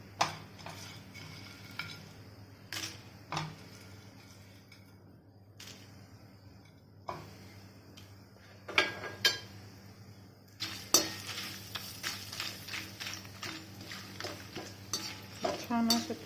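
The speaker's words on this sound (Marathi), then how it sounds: "आता आपल्याला इथून पुढे सगळे मसाले हे तेलामध्ये भाजून घ्यायचे आहे" Cinnamon and whole spices roasting in oil for homemade garam masala, a quiet sizzle under repeated scraping and clinks of a spoon against the pan, growing busier and more rhythmic toward the end.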